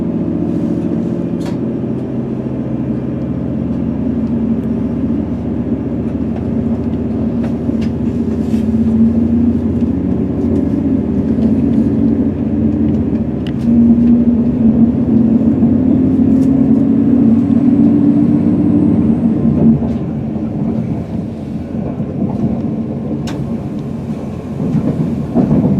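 A TransPennine Express train pulls out of Leeds on a Hull-bound service, heard from inside as a steady low rumble and rolling wheel noise that swell slightly partway through, with no talking.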